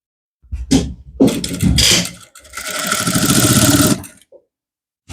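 A sewing machine stitches down a trouser placket in bursts: two quick short runs, then a longer steady whirring stretch before it stops, loud and close, with no talking.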